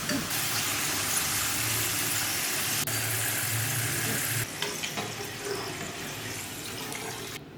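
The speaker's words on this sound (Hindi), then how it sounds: "इसको हल्की आंच पे फ्राई करें।" Potato chips frying in hot oil over a low flame, a steady dense sizzle and hiss that runs the whole time, easing slightly toward the end.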